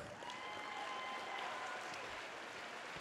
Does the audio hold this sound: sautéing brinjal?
no